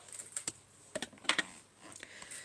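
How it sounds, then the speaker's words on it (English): Someone types on a computer keyboard, producing quiet, irregular clusters of soft key clicks with short pauses between bursts, close by and alone. "I'm just typing in ChatGPT now"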